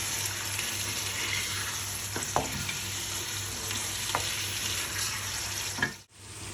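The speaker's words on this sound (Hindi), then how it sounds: "इसको डालने के बाद आप 2-3 मिनट के लिए इसको जो है वो अच्छी तरह से भून लें।" Onions and mutton fry in a handi with a steady, close sizzle, broken by a few sharp scrapes of stirring, before a brief cut near the end.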